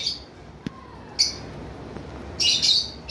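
Caged lovebirds and cockatiels give a few sharp, scattered chirps and squawks, with a louder burst of shrill calls near the end over a quiet background.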